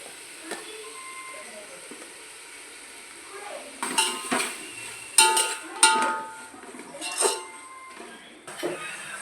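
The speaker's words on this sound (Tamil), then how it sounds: "இப்போ தக்காளி அதில் போட்டு அதையும் நல்லா வதக்கிடலாம்" Tomatoes sautéed and stirred in a pan for veg biryani: a faint sizzle underneath, then a run of sharp metallic clinks and scrapes as a spoon stirs against the pan, loudest in the second half.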